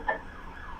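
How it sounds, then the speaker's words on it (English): A brief wail of an ambulance siren, a quick bright tonal blip at the start trailing into a faint fading tone, distant and short with no talking over it. "That sounded like an ambulance on its way"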